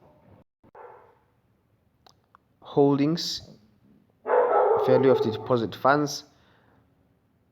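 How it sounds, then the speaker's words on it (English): A dog barks twice in short bursts, fairly close, with a voice talking faintly and intermittently around it. "sorry for the dog that's barking"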